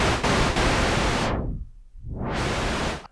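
Pink noise from a vintage ARP Axxe synthesizer: a loud, steady hiss that is filtered down to a dull rumble and then swept back open to full brightness.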